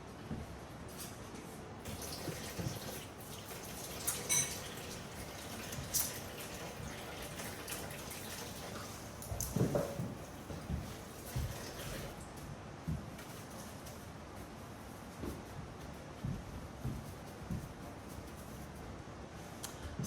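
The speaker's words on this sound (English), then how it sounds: "I'm going to wash my hands." Hands being washed under running tap water at a kitchen sink before cooking: steady, quiet splashing and spray with small irregular bursts as hands move through the stream, faint and continuous.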